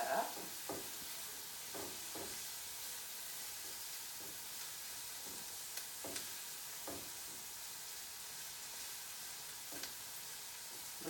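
Anchovy fillets being stirred into a sizzling puttanesca sauce, a soft steady frying hiss with a regular series of light scraping stir strokes, fairly quiet and close, no talking.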